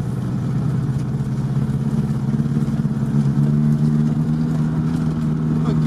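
An off-road vehicle's engine idles steadily and smoothly without misfiring, a close, even hum with a low rhythmic clatter that holds throughout.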